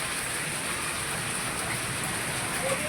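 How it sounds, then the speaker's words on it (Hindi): Heavy monsoon-style rain pouring down steadily for over an hour, a dense, loud, continuous roar of drops hitting surfaces with no pauses. "तो बहुत ज़ोर से हो रही बारिश, बंद होने का नाम नहीं ले रही"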